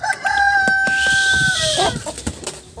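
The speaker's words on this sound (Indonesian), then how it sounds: "ada ayam nih" A farm chicken clucks close by while a rooster lets out a loud, drawn-out crow, followed by a few more clucks; no talk.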